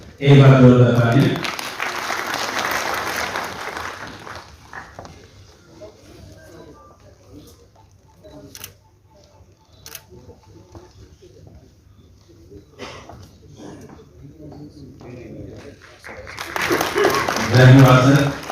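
Two loud bursts of crowd applause at an Ambedkar Jayanti celebration for the 132nd birth anniversary, one at the start and one at the end, with quieter talk and room noise between them.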